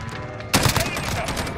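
The Wendigo cryo gun firing in the video game Modern Warfare, a sudden loud burst of rapid shots that continues as a dense fusillade, with a voice talking faintly underneath.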